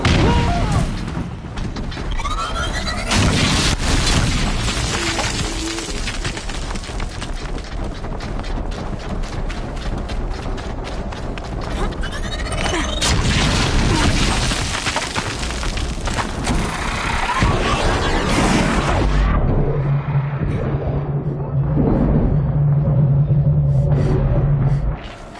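Heavy explosions and booming rumbles in the video game Horizon Zero Dawn, a dense, loud, continuous wash of blasts and crashing impacts with no pause.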